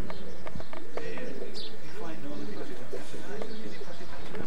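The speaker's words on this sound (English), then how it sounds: "Thanks very much for having me around to see the pigeons today." Racing pigeons at a loft coo and flutter close by, soft repeated calls and shuffling running on under steady talk.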